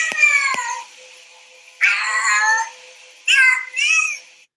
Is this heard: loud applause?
no